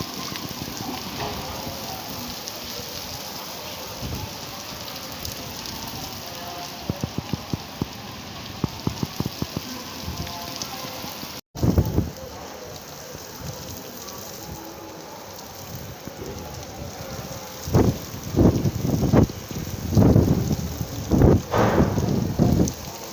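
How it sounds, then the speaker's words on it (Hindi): Rain mixed with hail falls during sunshine. A steady patter of drops runs throughout, and sharp scattered impacts grow denser and louder toward the end. There is no talking. "ये देखें, ओले वाली बारिश हो रही है"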